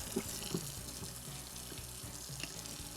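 Cold tap water runs into a sink as fermented naan dough is rinsed, a steady close splashing stream with a few soft knocks and handling sounds.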